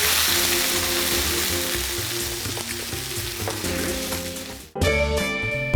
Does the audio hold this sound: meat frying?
yes